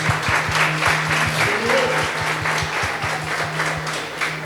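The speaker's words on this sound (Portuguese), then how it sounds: "Você pode aplaudir a Deus por isso?" A church congregation applauds in a steady, dense wash of clapping, with a rhythmic low thumping from the sound system pulsing underneath throughout.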